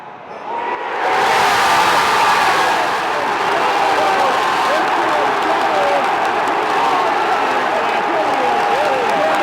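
Football crowd at a Newcastle United versus Norwich match roars with cheering and applause, a loud, sustained wash of voices and clapping that swells after a brief quieter start and holds steady throughout.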